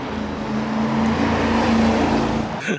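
A 1984 C4 Corvette engine runs rough while missing cylinders, holding a loud, close, uneven idle-like drone that cuts off sharply at the end.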